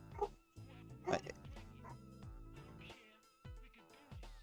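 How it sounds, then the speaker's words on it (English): Dogs barking in the background of a home stream, a few short yips and bow-wows scattered over a few seconds, fairly faint and set against steady indoor background sound. "You can hear the dogs barking in the background."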